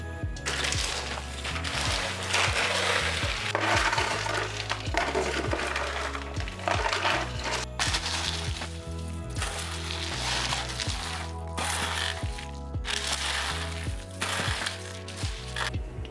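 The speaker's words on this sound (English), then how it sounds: "Now you wanna mix it all together." Chex Mix coated in seasoned butter is stirred together, giving a steady crunchy rustle and rattle of dry cereal pieces that runs throughout under background music.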